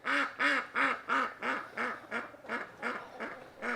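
Ducks kept on a homestead quack repeatedly in a steady rhythm, about a dozen close, clear calls heard alone with no talking.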